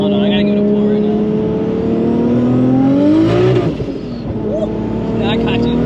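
Engine of a 1990s-era car revving hard while driving, a loud rising whine that climbs then drops, with people talking over it.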